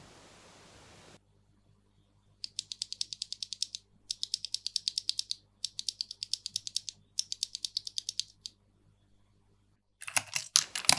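Bursts of rapid mechanical keyboard typing on Drop Holy Panda 3-pin 67-gram tactile switches, clicky keystrokes in quick rhythmic runs separated by short pauses, close and fairly quiet with no talking.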